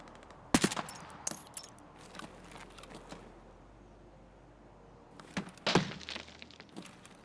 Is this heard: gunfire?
yes